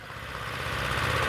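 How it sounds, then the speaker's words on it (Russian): Tractors clear snow from a city sidewalk in Poltava, their engines a steady, moderately distant rumble and churn that swells slightly toward the end, with no talk. "эти трактора чистят тротуар"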